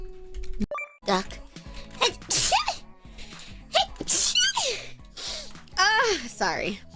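Several sneezes from streamers in a compilation, sharp and close, scattered between bursts of talk and short electronic tones.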